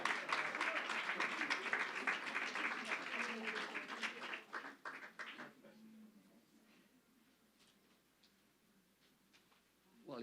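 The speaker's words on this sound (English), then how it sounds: "So I want you to give him a big round of applause," Audience applause at a Harvard open house event for Observatorio Cervantes, a dense wash of clapping that fills the first five seconds, then thins and fades to scattered claps and quiet room noise.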